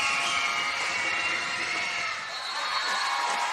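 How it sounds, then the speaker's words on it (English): A crowd at an under-12 girls' basketball championship game cheers and shouts continuously, with children's voices and whoops forming a loud, sustained roar throughout. "That Dandenong crowd certainly making plenty of noise."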